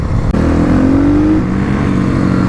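A Kawasaki KLX motorcycle engine, compared between 300 and 351 versions, revs hard under on-road acceleration, loud and close, its pitch climbing steadily before easing off into a sustained drone after a brief gear shift.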